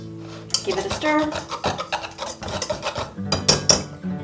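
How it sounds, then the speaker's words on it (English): Pastry blender scraping and clinking through dry biscuit ingredients in a bowl, several bursts of metallic stirring and tapping close up, alone without talk. "Give it a stir."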